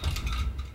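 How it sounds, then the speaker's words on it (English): A loose, broken bolt hold open rattles around inside a Stribog SP9A3 magazine, giving a short, faint, continuous metallic shaking clatter heard alone. "That noise you hear right there, that's the bolt hold open."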